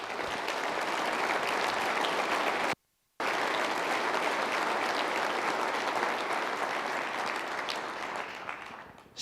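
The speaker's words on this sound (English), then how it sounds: "Please stand up for a round of applause." An audience at a logistics industry fall meeting applauds in a steady, dense round of clapping that holds for several seconds, breaks briefly, then resumes and fades near the end.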